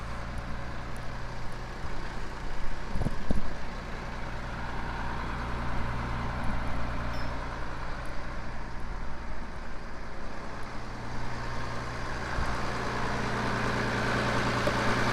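A heavy tractor engine idles steadily nearby on an Australian farm during seeding, a low droning rumble holding an even pitch throughout with no voices.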